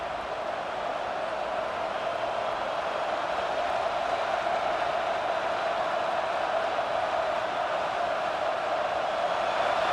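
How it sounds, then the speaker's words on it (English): A stadium crowd at an Auburn vs Georgia Tech football game roars in a continuous, dense wall of noise, loud and sustained without a break. "Listen to this crowd just shaking the girders of this place"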